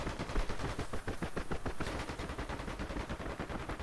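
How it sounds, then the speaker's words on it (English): Rapid bursts of automatic gunfire from a DCS combat flight simulator battle on Saipan, dense overlapping shots crackling steadily throughout with a distant, sustained fusillade feel. "Oh, they're shooting at people way out in the distance."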